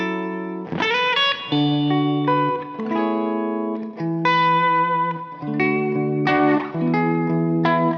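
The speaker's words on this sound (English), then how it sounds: "So that's just the bridge pickup on 7 on the volume" Les Paul electric guitar on its bridge pickup through an AC30-style amp profile with a little reverb, strumming loud sustained chords that ring out one after another, alone without talk.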